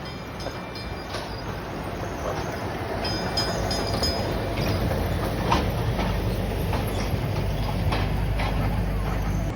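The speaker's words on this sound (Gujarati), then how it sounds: "બહુ મોટી ટ્રેન છે કે ધીમે ધીમે હાલે" A train rumbles along slowly with a steady low roll and faint clanking, while people talk quietly nearby over the noise.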